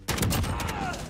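Origin 12 shotgun blasting in Call of Duty Modern Warfare, a burst of loud, close game gunfire with rapid repeated booms and a ringing tail.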